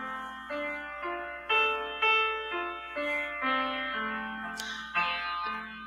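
A beginner piano piece played with the sustain pedal held down, a steady sequence of single notes each struck and left ringing so they blend and overlap, close and moderately soft with no talk.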